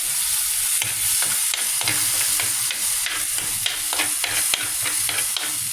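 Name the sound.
stirring fish masala frying in a pan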